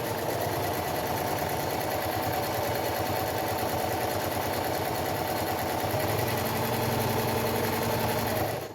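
A sewing machine fitted with a walking foot stitching fabric for storage pods, giving a close, steady mechanical whir with rapid needle clatter that runs continuously for several seconds, then stops abruptly.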